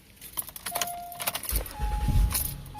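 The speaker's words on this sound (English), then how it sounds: "Starts the car perfectly fine." Keys jangle near the ignition of an Acura MDX, then the engine cranks and catches with a low rumbling start, while a faint electronic chime sounds in the background.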